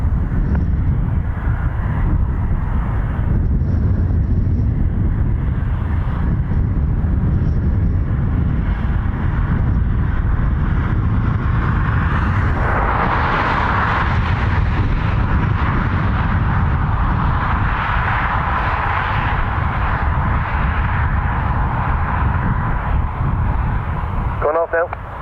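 An Antonov AN-26B turboprop departs Dublin Airport, its loud engine roar building and swelling midway as it climbs away, with wind buffeting the microphone throughout.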